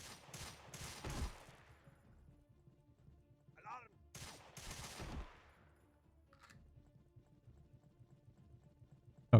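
Video game gunfire in rapid automatic bursts, two loud clusters of shots separated by quieter gaps, with a faint click and a sharp sound at the very end.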